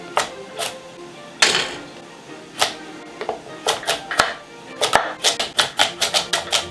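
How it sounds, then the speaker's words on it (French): Carrots chopped into bite-size pieces with a blue knife on a cutting board: crisp, close knife strikes, sparse at first and then speeding into a quick rhythmic run of about a dozen chops, with no voices. "Les carottes on les coupe à la bouchée."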